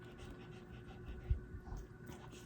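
A dog pants heavily in quick, soft breaths close by, rhythmic and fairly quiet, with no talk over it.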